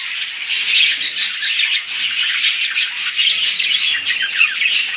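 Flock of male budgerigars in an aviary, a loud, continuous chorus of overlapping shrill squawks and chatter with no speech.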